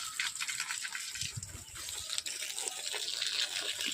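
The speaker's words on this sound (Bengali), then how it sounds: "জল দিয়ে দিই।" Water poured onto soil in a small home garden bed: a steady, close gushing splash and hiss that runs the whole time, with no voices.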